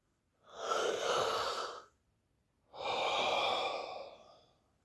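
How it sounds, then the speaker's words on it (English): Two slow, deep breaths during a relaxation exercise, each a long, soft airy rush lasting over a second, separated by a brief silence, close and quiet. "Okay, another deep breath."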